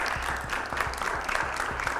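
A studio audience claps continuously as a guest is welcomed onto a French television show, a dense, steady round of applause with faint voices beneath.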